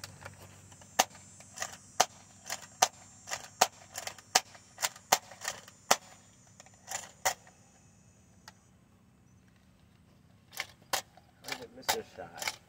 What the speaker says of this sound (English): Got my favorite revolver, the Adventure Force Thundershot.